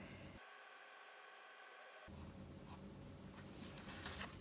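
A calligraphy pen scratches across paper in faint, close strokes, soft irregular scraping bursts over a low background hiss in a quiet room.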